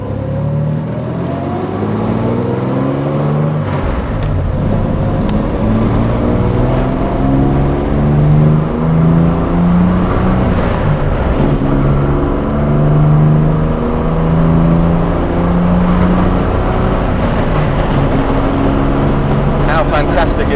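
A 1957 Jaguar XK150 fixed-head coupé accelerates hard on the road, its engine note climbing through repeated gear changes in loud, close sweeps, with interior cabin rumble and occasional talk over it.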